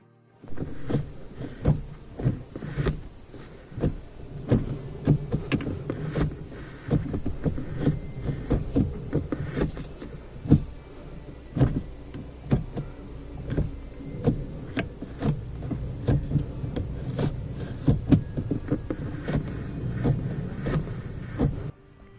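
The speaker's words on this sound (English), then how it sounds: "Please use headphones to hear the sound of the friction." Gear-shift friction in a Tata Nexon petrol's gearbox, worst going into first or second: repeated sharp clicks and knocks over a steady low cabin rumble, close and fairly loud throughout.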